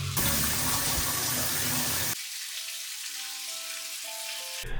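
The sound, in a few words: shower running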